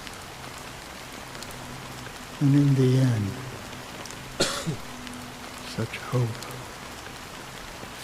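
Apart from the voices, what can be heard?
rain falling, from Honkai Star Rail video game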